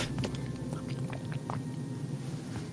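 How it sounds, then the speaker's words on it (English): Close-miked mouth sounds of someone eating ice cream, with soft wet chewing and swallowing clicks repeating over a few seconds, no talk. "I can hear you swallowing"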